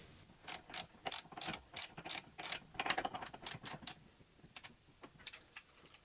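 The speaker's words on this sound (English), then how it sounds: "snug these up and put some torque on the crank pin nut" A ratchet wrench tightens the crank pin nut on a bicycle hub being built up for truing, giving rapid bursts of close clicking pawl ratchets in short strokes with brief pauses between them.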